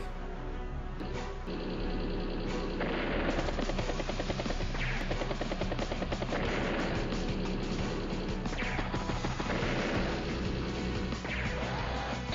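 Units firing and attacking in the Advance Wars: Days of Ruin strategy game, dense layered game sound effects with repeated bursts and crashes over steady music, loud and continuous.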